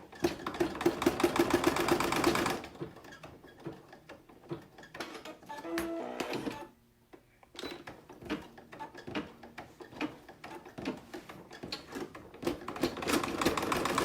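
Computerized embroidery machine stitching a 4x4 in-the-hoop zippered bag, a fast steady mechanical needle rhythm that is loud at first, then drops to quieter intermittent whirring and ticking with a brief pause before the stitching picks up again.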